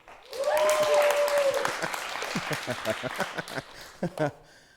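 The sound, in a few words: audience applause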